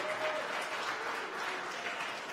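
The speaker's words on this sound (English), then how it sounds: "You might hear the applause in the background." Steady applause from a rocket launch control room full of people, a dense even wash of clapping held at moderate level throughout, with no talking over it.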